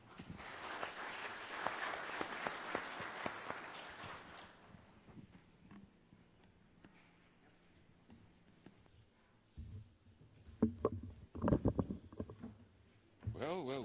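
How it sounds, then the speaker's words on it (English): A conference audience applauds at the close of the final session of a pension supervisors' conference, dense clapping for about four seconds that then fades, followed by scattered bumps and handling noise. "request you that we applaud them as we end the session"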